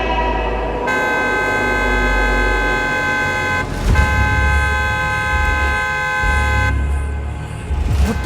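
A vehicle horn blares in long sustained blasts close by, with a brief break in the middle and a rumble of traffic underneath.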